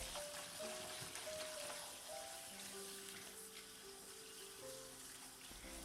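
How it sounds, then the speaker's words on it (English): Fuki stalks, a bitter Japanese spring vegetable, are rinsed under cool running tap water, giving a soft continuous splashing stream at low level, with faint tonal notes in the background. "Give it a gentle rinse under the cool running water to wash away any dirt."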